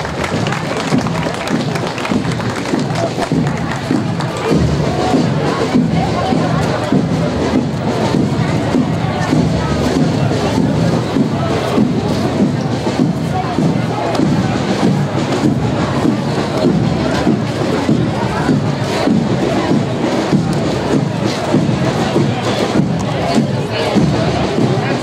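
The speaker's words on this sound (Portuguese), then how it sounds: "Quero pedir a estes alunos uma salva de palmas." An outdoor crowd at a September 7 Independence Day parade in São Domingos, Maranhão applauds and cheers for students in a continuous wash of clapping and shouts, with voices mixed in and some wind buffeting.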